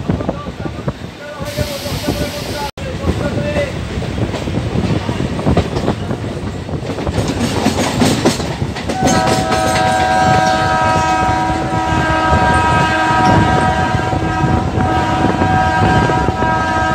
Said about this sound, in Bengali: দেখতে পাচ্ছ ট্রেন দেখো পুরো আটকে গেছে।